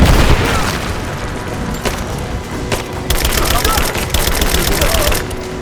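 Gunfire rings out in the video game Rise of the Tomb Raider: loud, dense bursts of shots and booms keep coming almost without a break, with shouted voices mixed into the battle.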